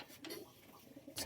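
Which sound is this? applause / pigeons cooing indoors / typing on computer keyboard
pigeons cooing indoors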